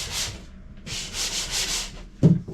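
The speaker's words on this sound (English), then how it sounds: "by hand sanding this out, I take long strokes" Hand sanding a catamaran head with a sanding block, with long rasping strokes close by in a repeated back-and-forth rhythm and a brief knock near the end.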